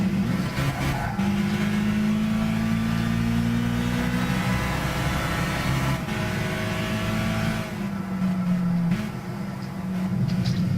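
A race car engine in Gran Turismo 6, played with a controller, drones at high revs through a corner, pitch sliding up and down with gear changes and throttle, loud and continuous with no talking over it.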